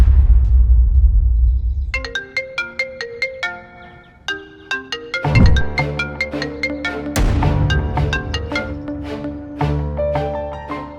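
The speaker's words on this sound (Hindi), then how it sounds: "कोई तुम्हें बार बार फोन कर रहा है क्या?" A phone ringtone plays a repeated, loud melodic chime pattern in an indoor household scene, ringing again and again with no talk over it.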